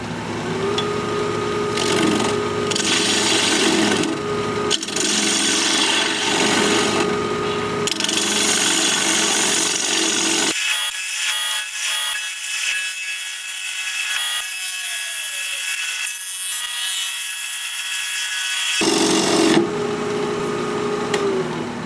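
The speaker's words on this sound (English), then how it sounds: "We're going to be turning at 1400 RPM, freshly sharpened 5/8 inch bowl gouge" A wood lathe spinning at 1400 RPM while a 5/8 inch bowl gouge cuts a sea grape bowl, a continuous rough scraping hiss with steady hum, pausing into a quieter motor whine before cutting resumes.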